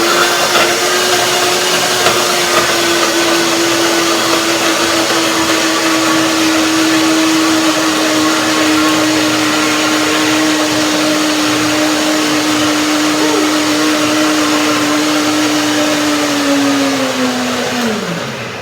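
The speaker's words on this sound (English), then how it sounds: "So maybe I have to turn it over because the cream is going up on the blender walls" A blender whirs steadily, mixing frozen bananas into cream for vanilla ice cream, loud and close with a constant motor drone, then winds down at the end. No one speaks.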